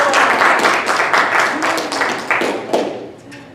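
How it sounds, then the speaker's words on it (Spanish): A congregation in church bursts into loud, close applause, a thick wash of many hands clapping that gradually thins and fades over a few seconds, leaving a few last scattered claps. "si ese aplauso fue para Dios, de lo más fuerte."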